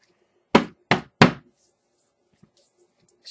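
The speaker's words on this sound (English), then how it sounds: "Should we knock out all the air bubbles?" Three sharp, evenly spaced knocks of a cucumber cantaloupe cold process soap mold being tapped against a surface to release air bubbles, followed by near silence and faint rustles.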